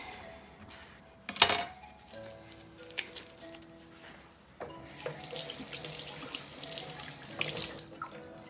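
An English cucumber is rinsed under a running kitchen tap, water splashing into the sink in bursts close by, with a few clinks of dishes around it.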